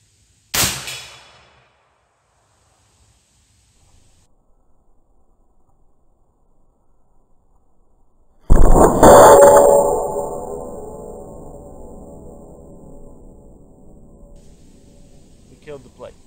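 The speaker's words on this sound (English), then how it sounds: "I'm gonna go for the heart shot on the plate." A rifle fitted with a .72 caliber muzzle brake fires at a steel plate outdoors: a faint early crack, then one loud sharp blast with a ringing decay, followed by quiet metallic ticks.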